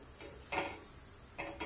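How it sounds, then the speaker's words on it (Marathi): Butter sizzles on a hot tawa griddle, a soft steady crackle with brief louder hissing bursts as it is stirred, quiet and close with no talk. "त्यासाठी मी आधी तवा ठेवला आहे गरम करायला आणि हे आपण बटर टाकूया मस्त"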